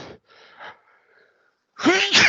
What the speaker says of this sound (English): had to sneeze before we went there.